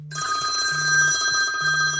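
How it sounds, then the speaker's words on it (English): An incoming phone call ringing through a Rivian car's system, a steady electronic ring with a pulsing low tone repeating about every second, clear and close with no speech. "I have a phone call coming in here, and I can use the buttons here to either reject, mute, or answer it."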